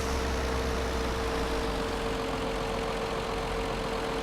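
A roughly 90-horsepower tractor engine idles steadily, a continuous low mechanical drone with a constant hum, fairly faint and unchanging throughout.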